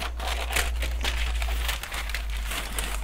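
Soft, close crinkling and peeling of a sticker seal being opened on a GlossyBox beauty box package, a quiet run of small crackles and rustles over a low steady hum.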